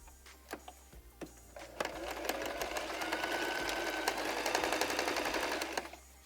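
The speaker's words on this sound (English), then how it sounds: "I'll just sew the top of the pocket first." A sewing machine stitches across the top of a fabric pocket: a few sharp clicks and taps, then a sustained close, fast mechanical whirring run that stops with a couple of clicks.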